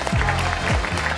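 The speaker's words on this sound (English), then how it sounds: "Let's give a warm round of applause to Adam Nace" A short burst of applause at a live virtual event on AI-powered digital contracting greets a guest from OpenAI coming on stage, loud steady clapping with a voice or music tone sounding underneath.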